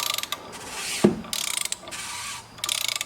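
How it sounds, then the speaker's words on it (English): A ratchet turns a Porsche 944 Turbo engine over by the alternator, with three stretches of quick ratcheting clicks broken by short pauses and a single sharp knock, close and fairly quiet. "There is the ratchet. I am spinning by the alternator because there is no crank bolt technically"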